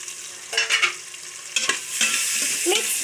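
Onions and chillies sizzle in a pan while a utensil stirs them, giving a continuous frying hiss with two or three louder scraping bursts, close up and without speech.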